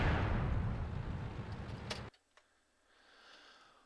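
Tank cannon fire in World of Tanks, a loud roaring blast that cuts off abruptly, followed by a short sharp crack and a quieter lingering rumble.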